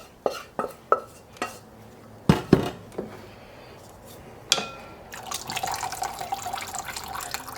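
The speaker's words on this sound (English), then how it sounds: "So now we're just going to strain that off." Apple juice strained off cooked apples for a pie filling: a few sharp drips and clinks of a pan, then a steady pouring trickle of liquid, close and fairly quiet.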